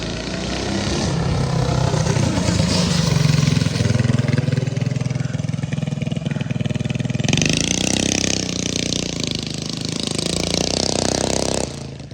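Big block engine on a Baja Warrior mini bike revving hard and loud at close range, a rough continuous roar that surges and changes pitch midway, with no talk over it.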